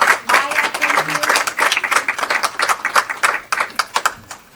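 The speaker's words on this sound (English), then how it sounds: "And so if you wouldn't mind a round of applause for John and Dane and all my other team." An audience claps for a team at the XR Super Girls event, a dense, steady round of applause lasting several seconds with a few brief dips, close and fairly loud, with no one talking over it.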